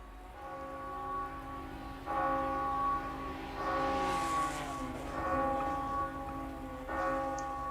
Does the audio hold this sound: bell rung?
yes